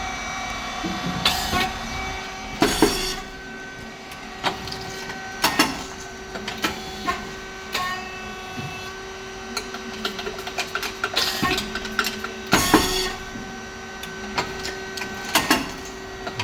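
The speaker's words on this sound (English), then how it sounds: "drive motor and gear head, the feeding plate go forward" An SYP5310T rice cake machine runs with its drive motor and gear head pushing the feeding plate forward, giving a steady mechanical hum and whine punctuated by repeated loud clanks and hissing bursts at irregular intervals, close and without talking.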